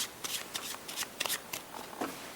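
Playing cards shuffled by hand during a card magic routine, a quick run of crisp riffling bursts close up, with no talk over them.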